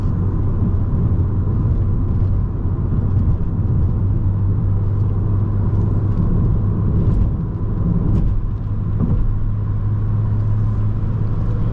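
A 2011 BMW 335i cruises at about 1800 rpm at 60 on a test drive with light throttle, giving a steady, continuous low engine drone blended with road rumble, even and unbroken throughout.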